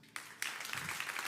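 A church congregation breaks into applause during a sermon, sharp clapping starting abruptly after a brief quiet moment and quickly building into a dense burst, fairly faint overall.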